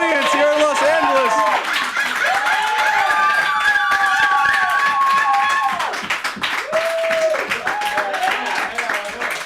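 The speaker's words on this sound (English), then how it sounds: "We get round of applause from our studio audience here in Los Angeles." Studio audience in Los Angeles applauding at a live call-in show, a dense burst of clapping mixed with crowd noise and overlapping voices, loud and close throughout.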